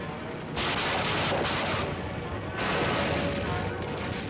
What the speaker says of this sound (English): Many are equipped with machine guns, some with rockets.